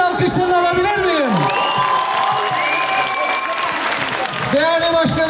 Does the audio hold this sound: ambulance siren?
no